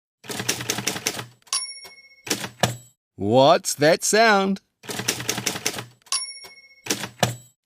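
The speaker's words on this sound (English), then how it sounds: "And the answer is a typewriter." Rapid bursts of typewriter key clacks with a bell ding, in several separated runs, alternating with a child-friendly spoken voice between them.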